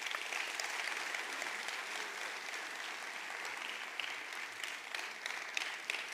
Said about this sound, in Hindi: सर प्लीज, एक जोरदार तालियां होनी चाहिए,